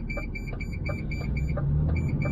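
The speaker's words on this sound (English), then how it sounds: "Sorry for the buzzer" A buzzer going off in a repeated electronic beeping pattern, quick pulses in short bursts, moderately quiet over low background rumble.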